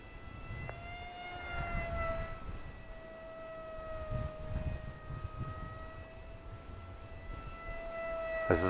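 A Glue & Fly F-22 Raptor micro RC plane flies overhead, its small electric motor giving a steady high whine that shifts in pitch as it maneuvers, fairly faint over outdoor wind.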